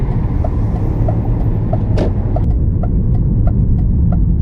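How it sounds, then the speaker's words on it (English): A BMW E46 sedan rolls along the road with a steady, loud engine and tire rumble, heard from close by with a brief higher whoosh midway. "Another E46 chassis rolling down the road."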